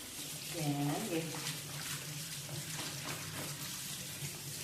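Bitter gourd being washed under running tap water, a steady splashing and trickling stream continuing throughout at close range, with a brief voice near the start.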